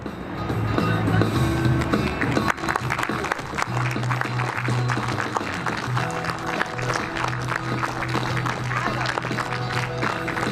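An outdoor audience at a park music event applauds with scattered, busy clapping and cheering, mixed with crowd chatter and lingering tonal sounds from the stage.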